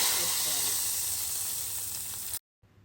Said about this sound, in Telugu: ఇప్పుడు ముందుగా కలిపి పెట్టుకున్న ఈ రసంలోకి తాలింపుని వేసుకోవాలి